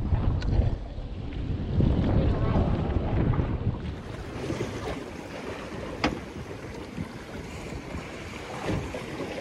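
Three- to four-foot ocean waves wash around a small boat out stone crabbing, a steady rushing slosh mixed with heavy wind buffeting on the microphone, with no talk.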